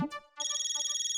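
A mobile phone ringtone plays in a Hindi TV comedy scene, a bright, warbling electronic tone pulsing rapidly and evenly for under a second after a short sound at the start.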